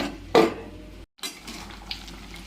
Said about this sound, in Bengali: এবারে এটা ঢাকা দিয়ে দেবো।